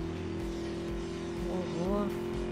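A fast car roaring along at high speed in Need for Speed Most Wanted (2012), a steady engine drone under game music while someone talks over it.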